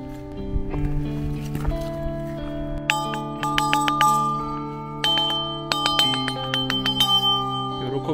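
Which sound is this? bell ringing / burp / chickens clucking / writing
bell ringing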